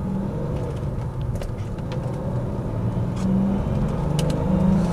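A BMW 635CSi with a manual gearbox accelerates along a road, heard from inside as a steady low engine rumble with road noise that swells slightly louder toward the end.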